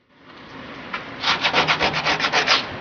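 Fine 1000-grit sandpaper rubs back and forth over automotive paint in quick, rhythmic strokes, close and fairly loud, about a dozen passes with no talking.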